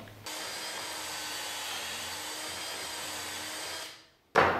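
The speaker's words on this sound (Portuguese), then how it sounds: "a broca especial que tem um rebaixo na ponta, justamente que é o rebaixo da broca guia e mais a espessura da furação" A power drill with a special stepped bit bores a hinge cup hole in wood for a cabinet door, giving a steady close whirring grind for nearly four seconds before it winds down and a brief clatter follows.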